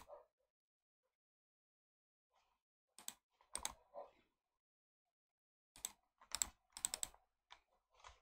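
Someone types a short command on a computer keyboard, with a quick cluster of close key clicks, a pause, then a second, busier burst of taps in an otherwise quiet room.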